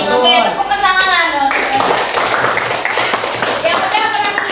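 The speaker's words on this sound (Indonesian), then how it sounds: "Oke, tepuk tangan." Students in a classroom clapping, a burst of quick, close handclaps and taps that follows a voice speaking, then scatters into lighter claps with more chatter underneath.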